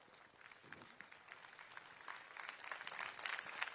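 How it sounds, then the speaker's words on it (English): Faint, distant applause from an audience at an Odia cultural performance for a diaspora event, steady scattered clapping that swells slightly toward the end. "And the applause says it all."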